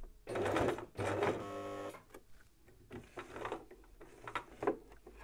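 A domestic sewing machine stitches through a thick denim belt loop on a torn jean, giving bursts of rapid mechanical stitching with pauses and some quieter clicks between runs, heard close and alone.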